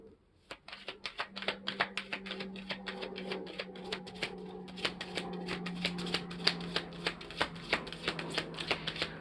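Tarot cards being shuffled close up, a rhythmic series of sharp riffling snaps repeating every half second or so, with soft background noise underneath.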